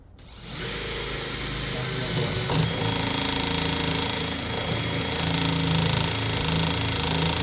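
A steady, loud drilling whine as a titanium bit bores into metal runs continuously after a brief quiet start, grinding at a constant pitch with little variation.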